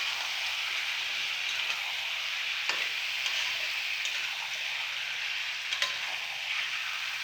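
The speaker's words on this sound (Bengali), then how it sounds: "এই তেল গরম হয়ে মাংস ছাড়া হচ্ছে" Meat frying and sizzling in hot oil for a wedding-style curry, stirred with a few soft scrapes and clicks over a steady, close hiss.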